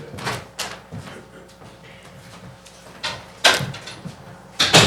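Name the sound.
door being closed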